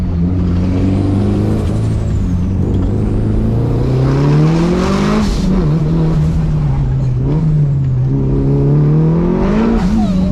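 A Mitsubishi Lancer Evolution V sports car engine revs and drones close by, pitch rising and falling as it pulls hard, with brief shifts between gears.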